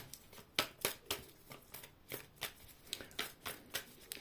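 Playing cards are shuffled with a series of quick, crisp riffling bursts in an uneven rhythm, close and quiet.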